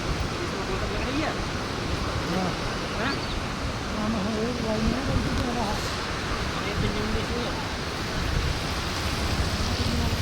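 Bhagirathi river flows beneath a bridge in a constant broad rush of water, while faint voices and a few quack-like calls come through underneath.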